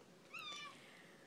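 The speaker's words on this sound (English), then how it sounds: "Sorry, it's my aunt's cat." An indoor house cat gives a single short, faint meow, distant and quiet against a low background hum.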